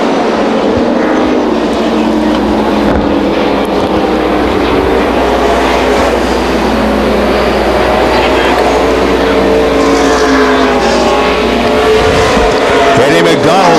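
NASCAR Busch North stock cars battle four abreast at Beech Ridge Motor Speedway, their engines forming a steady, loud, unbroken roar for the whole stretch while a commentator talks over it.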